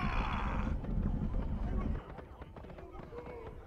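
Gunfire raining down from above in the World War I video game Valiant Hearts, a stream of sharp, scattered bangs over a dense rumbling din, with someone talking over it.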